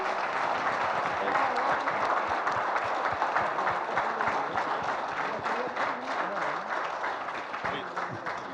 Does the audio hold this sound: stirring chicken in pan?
no